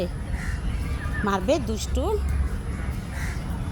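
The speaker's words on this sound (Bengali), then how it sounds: "ওই যে পাখি ডাকতেছে গাছের উপরে।" Crows caw from a tree outdoors, several rising calls in a short burst mid-clip, heard under a person talking nearby.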